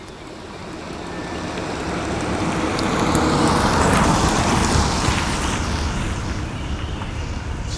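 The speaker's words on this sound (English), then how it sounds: "So, driving this little Dethleffs." A small Dethleffs compact motorhome drives along a road, giving a steady broadband rumble of tyres and engine that swells slightly midway and stays constant, with no voices.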